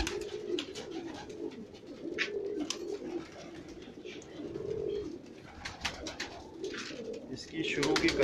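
Pigeons coo in soft, repeated low rolling phrases on a rooftop loft, several birds calling near and overlapping, with sharp wing flaps and rustles scattered through.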